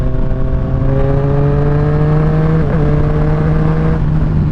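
A 2020 Triumph Street Triple RS motorcycle engine drones loud and steady at speed, its tone dipping briefly as it shifts up a gear midway and then holding a constant hum.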